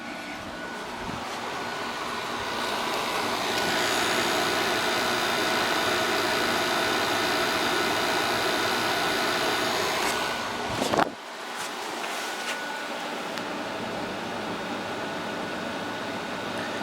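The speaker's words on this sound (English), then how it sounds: "See how that compressor sounds. It sounds pretty nice." A Hampton Bay/Fedders HBQ050 air conditioner compressor, a 2000 Glacier Breeze unit, hums steadily and fairly loud, with a brief clunk partway through before the drone carries on.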